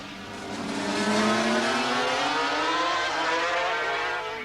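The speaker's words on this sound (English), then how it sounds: "This is why Randy Momola here takes a tight approach, leaving no room for Kenny Roberts to get inside him." Racing motorcycles cornering on a road-racing circuit produce a continuous high-revving engine whine with rising and falling pitch, loud and steady throughout, with no talk.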